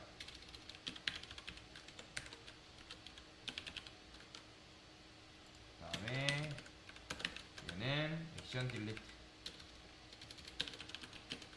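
Light, scattered computer keyboard keystrokes tap away at low level while someone talks quietly in the middle, the clicks continuing around his words.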